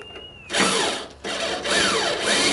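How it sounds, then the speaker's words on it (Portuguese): A power drill bores into a body pillar on a 1969 Volkswagen Kombi, a close whining whir in two bursts whose pitch sweeps up and down as the load shifts, with a short pause between them. "Então você tem que furar para ele entrar dentro da coluna"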